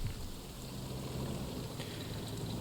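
Rain in the video game Strategic Mind: The Pacific, a steady faint hiss of rainfall with a low rumble underneath, continuous with no voices.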